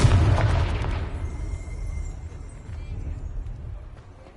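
A Confringo blasting curse goes off in Hogwarts Legacy on PS5: a single loud burst at the start that decays into a low rumbling tail over a few seconds, with no talk.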